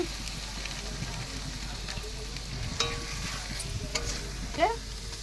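Ground spices with a little chilli powder fry in oil in a pan, giving a soft, continuous sizzle with occasional stirring scrapes and faint pops, close up and fairly quiet.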